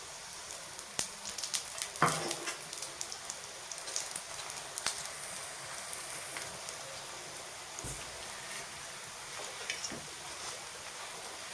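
Parotta frying in a little oil on a hot pan, giving a steady crackling sizzle with faint popping spatters throughout, close and alone.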